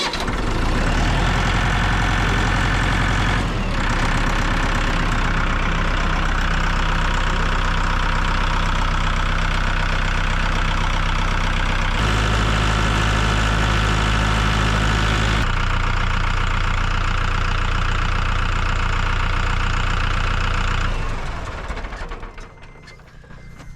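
An engine at a remote mountain off-grid cabin build cranks, starts and settles into a loud, steady idle for about twenty seconds, with a few shifts in tone, then cuts off at the end.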